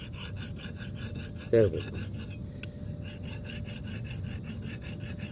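A file rasps along an axe edge while the axe rests against a wall. The strokes come as a steady, close scratching rub, with a short louder scrape partway through and a brief spoken remark.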